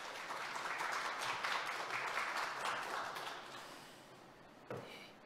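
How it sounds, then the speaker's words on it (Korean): Conference audience applauding a speaker's introduction, a sustained wash of many hands clapping that gradually fades out, with one sharp knock near the end. "박수 부탁드리겠습니다."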